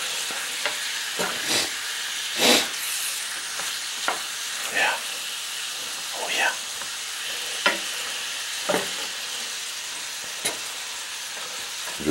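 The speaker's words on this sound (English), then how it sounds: "Just let them simmer." Deer heart smothered in onions simmers in a pan with a steady, soft sizzle and crackle, broken by brief louder pops and stirring scrapes at irregular intervals, no voices over it.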